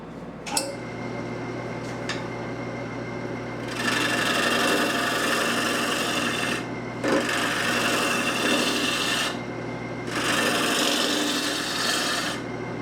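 A lathe tool cuts a wooden teapot in long rasping passes, three sustained scraping bursts with short pauses between, preceded by a few light taps, loud and close with no talk.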